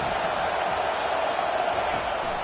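A home football crowd roars in a steady, dense wall of noise as the defense lines up on third down, sustained and loud with no break across the moment.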